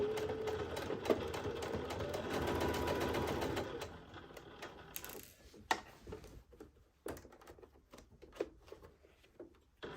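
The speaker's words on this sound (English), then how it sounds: "I'm gonna take my regular zipper foot to sew this opening closed." A sewing machine with a zipper foot stitches an opening closed in a steady whirring burst for about four seconds, then stops, followed by scattered clicks and light handling noises.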